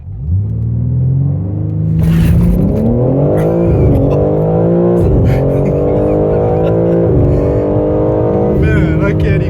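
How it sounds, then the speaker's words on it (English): A 2022 BMW M3 xDrive Competition launches hard from inside the cabin, its engine note climbing in loud rising sweeps broken by quick gear-shift dips, with a voice faintly present under the roar. "Wanted to do the launch control here from inside the car."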